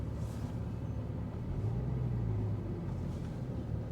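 A Porsche GT3 with an automated manual gearbox reverses slowly, the clutch slipping under computer control; a steady low engine rumble with a faint rising drone in the middle, no voices.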